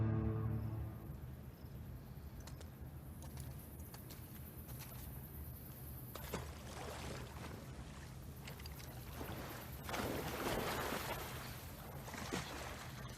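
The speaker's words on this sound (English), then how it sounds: "That is the most realistic sounding water I've ever heard in my life." Video game water in The Last of Us Part II: a steady, fairly loud wash of lapping and rushing water that swells and eases over several seconds, with no voices.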